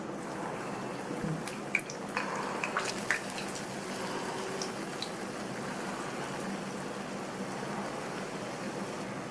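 Idli batter bonda balls dropped into hot oil in a kadai, a soft continuous sizzle and bubbling with a few small pops and crackles early on, otherwise steady and fairly quiet.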